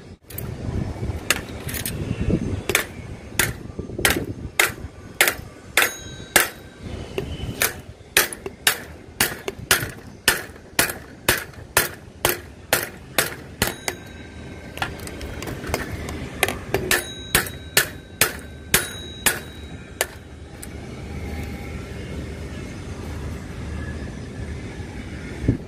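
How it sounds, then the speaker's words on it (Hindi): A bicycle handlebar is knocked upward and out using a piece of wood or plastic: sharp metallic taps repeat steadily for about twenty seconds, close and loud, some striking with a ringing tone. "अब हम किसी लकड़ी या प्लास्टिक की मदद से हैंडल को ऊपर की तरफ ठोक कर बाहर निकाल लेंगे"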